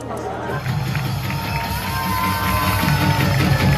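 A church congregation cheers and calls out as pastor Jeon Kwang-hoon appears. The noise is a dense, steady roar of crowd voices that holds loud and close throughout and swells slightly near the end.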